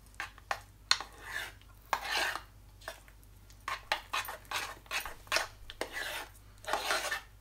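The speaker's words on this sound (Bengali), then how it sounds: "ভালো করে এটা মিক্স করে নেব।" Urad dal batter with fennel seeds and salt being stirred by hand in a bowl, giving repeated scraping and rubbing strokes in an irregular rhythm, close and fairly quiet, with no talk.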